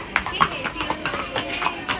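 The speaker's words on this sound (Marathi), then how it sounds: "घोडे आलेत" Horses walking through the hill-station market of Matheran, hooves clip-clopping in an irregular rhythm amid people chatting nearby.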